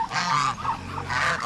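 A noisy flock of guinea fowl, a second batch of hatchlings among them, calls continuously in a harsh honking, cackling chorus, close and loud with no pause.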